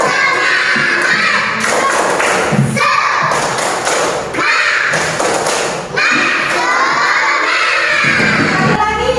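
Children in a classroom do the 'tepuk semangat' clapping chant, loud group claps and thuds in rhythmic bursts with shouted chanting voices, dense and close throughout with short gaps between phrases.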